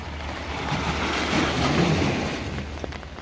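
Sea waves surge and break against a wall at a fishing village in Ocho Rios, Jamaica, a loud continuous wash of surf with wind rumble.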